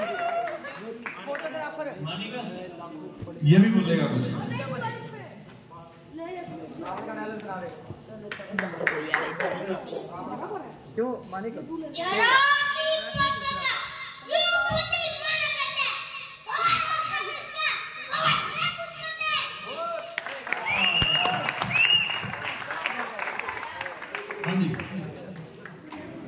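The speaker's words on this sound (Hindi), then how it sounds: "जोरदार तालियां" An audience at a Ramlila celebration by a dramatic club in Sirsa claps for a small child, bursts of applause rising and falling amid children's chatter and shouts and an announcer's voice.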